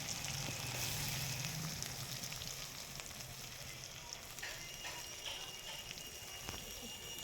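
Chopped onion frying in oil with whole cumin, cardamom and a dried chili, a soft continuous sizzle heard close and fairly quiet, with a few light clicks of stirring and no talking.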